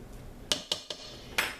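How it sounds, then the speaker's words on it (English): Four sharp metallic taps ring out as a spoon is knocked clean against a container during soap making, close and distinct in quiet surroundings. "I'm going to clean off my spoon"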